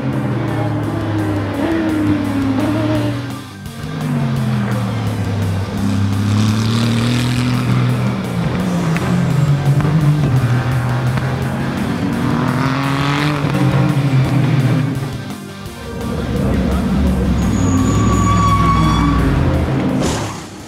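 Super GT race cars test on dry tyres at Fuji Speedway, engines screaming loudly as they pass in repeated waves, each rising and fading with gear changes, one after another along the track.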